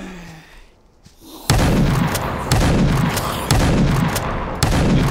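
Shotgun fire in the video game Glitch Simulator, a series of sharp loud blasts at irregular intervals after a quiet moment, each with a short rumbling tail.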